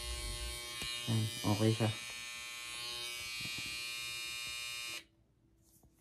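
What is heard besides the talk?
electric hair clipper running, tested by a barber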